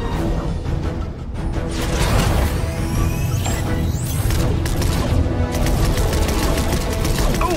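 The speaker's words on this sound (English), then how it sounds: "I was hoping we'd have an excuse to try out the Battle Bus's laser cannons." Battle Bus laser cannons in Fortnite fire at swarming drones during a Galactus event battle, a dense, loud barrage of rapid zaps and blasts with crashing impacts and whooshes running without pause.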